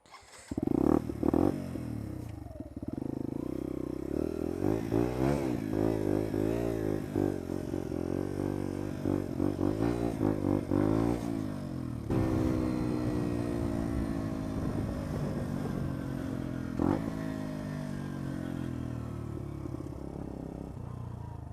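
A Lexmoto Adrenaline motorcycle rides on the road, its engine note rising and falling through gear changes over about twenty seconds, steady and close without talk.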